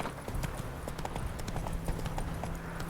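Horse hooves clip-clop in a steady, continuous rhythm in The Witcher 3: Wild Hunt, fairly close and loud with no talk over them.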